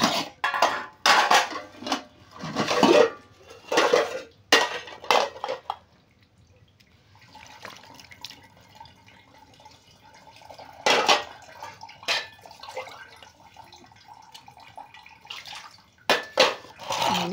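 Dishes, pots and cutlery are washed at home: close, sharp clanks and scrapes of metal utensils come in bursts, broken by a quieter stretch of running water before the clatter resumes.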